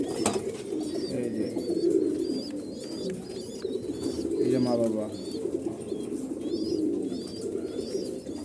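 Soft, low coos of Koka pigeons repeat under nearby speech, with faint chirps in the background.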